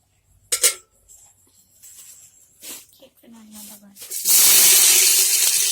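Sliced onions dropped into hot oil for a light chicken curry burst into a loud, sustained sizzle, preceded by a few kitchen clatters and faint voice sounds.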